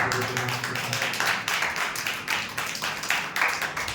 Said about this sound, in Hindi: ताली बजा के